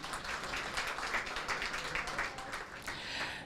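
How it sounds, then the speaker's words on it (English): A gala crowd breaks into a faint round of applause, many hands clapping in a dense, steady patter heard from a distance. "That deserves a round of applause."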